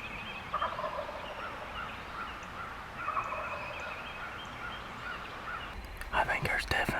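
Several wild turkeys gobbling at dawn on a farm, distant rattling gobbles repeating in bursts over steady ambient hiss, with quiet whispered talk and some close rustling near the end.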